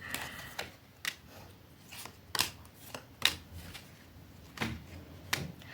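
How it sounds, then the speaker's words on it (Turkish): Tarot cards are shuffled by hand in a quiet room, a series of sharp, brief riffling snaps and soft slides spaced about a second apart, close and fairly faint. "Şey karıştı, kartlar karıştı."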